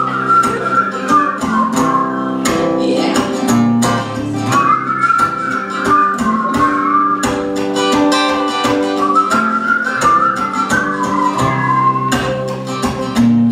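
Sustained whistling in repeated rising and falling phrases carries over steady background chatter and music-like tones throughout, at The Kessler Theater.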